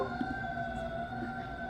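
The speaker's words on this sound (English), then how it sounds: "Do you hear that siren?" An emergency vehicle siren wails steadily as it passes nearby, its sustained tones holding loud and continuous across the whole moment with no talk over it.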